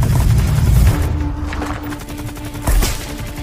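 Gunfire in an action film scene: a sniper rifle fires on guards below while rapid bursts of automatic fire break out, loud sharp cracks and rolling booms scattered across the stretch with no talk.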